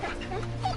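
A dog in The Walking Dead Telltale game gives a short, faint whimper over a low background hum, lasting under a second.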